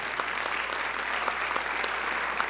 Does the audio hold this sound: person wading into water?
no